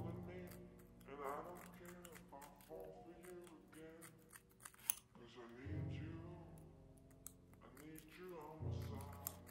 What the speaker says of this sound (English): I'm going to cut the edges.